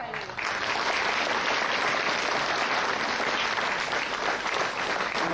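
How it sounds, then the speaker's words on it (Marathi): Sustained audience clapping fills the whole stretch, dense and steady, at a naming ceremony held during Navratri as part of a girl-child workshop. "सगळ्यांच्या टाळ्या वाजवत राहिले."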